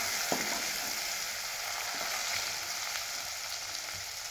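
A steady, close sizzle of garlic, coriander and curry leaves frying in hot oil with cumin and mustard seeds, with a few faint pops and stirring scrapes, no talking.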